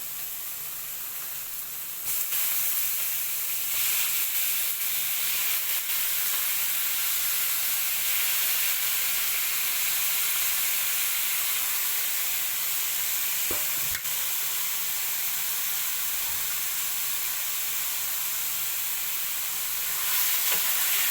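Pork menudo cooks in a pan with a steady, loud sizzle and hiss of frying that holds for the whole stretch, broken only by a couple of brief clinks.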